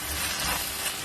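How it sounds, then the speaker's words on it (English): Two sliced onions frying in hot oil give a steady, close sizzling hiss that holds evenly for a brief moment. "In the same oil, I'm going to be frying 2 sliced onions"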